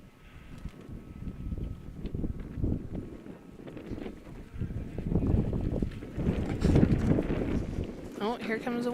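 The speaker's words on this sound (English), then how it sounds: "here comes the wind again" Gusty wind buffets the microphone outdoors at a sheepdog trial, rising and falling in a steady roar, with a voice speaking over it and a brief sharper sound near the end.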